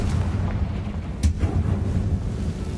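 A Confringo fire spell blasts in the Hogwarts Legacy video game, a single explosive burst about midway through, set over a steady low rumbling game backdrop.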